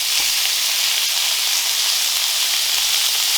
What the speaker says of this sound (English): we're going to fry it in the pan until it's nice and brown